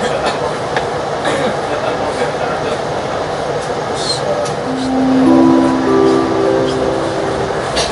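Train KA 48 Sembrani pulling out of Gambir Station, heard from inside a coach as a steady low rumble and rattle, with rising whining tones as it picks up speed and people talking nearby.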